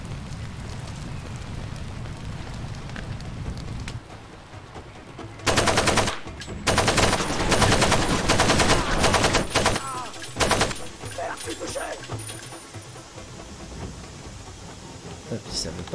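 Gunfire in the Far Cry 2 video game, loud dense automatic bursts from about five to eleven seconds over a steady rumbling, crackling fire and ambient background.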